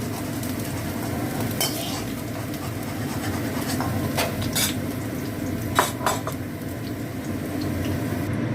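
Pumpkin pieces frying in a pan of oil left over from frying potatoes, giving a steady close sizzle with a few light utensil clinks and no talking.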